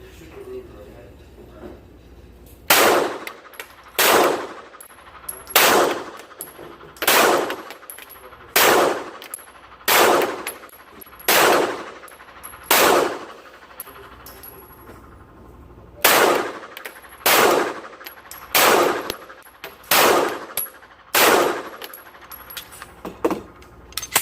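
A CZ P-10c pistol fires about fifteen loud, evenly paced shots at a range, each a sharp crack with a short echo, with a brief pause midway.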